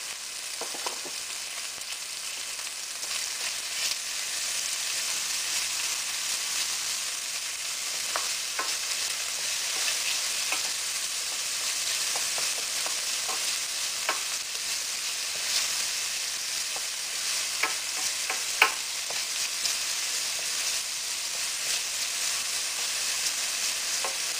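Turkey fried rice sizzling steadily in a hot pan, a dense continuous frying hiss with occasional stirring scrapes and pops, close and alone with no talk.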